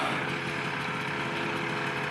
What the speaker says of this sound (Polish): Teraz grzeje silnik.